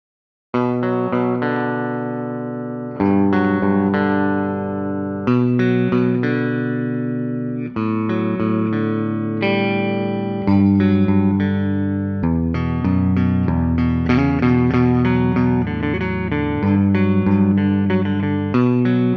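A Gibson Explorer Custom electric guitar from the MOD Collection, with a lightweight mahogany body, is played through effects. Sustained chords ring out loud and alone in repeated phrases, with chorus-like shimmer and distortion.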